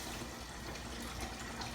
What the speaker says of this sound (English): Before I put on my gloves, I'm gonna wash my hands.